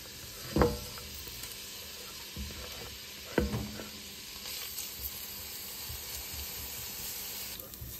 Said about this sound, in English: I got about a tablespoon of butter, and we're gonna caramelize about a half an onion.